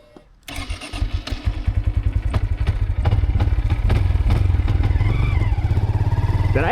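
A Honda Grom motorcycle engine cranks and fires up on a snowy, icy ride, settling into a loud, close, rapidly pulsing idle that grows steadier over several seconds.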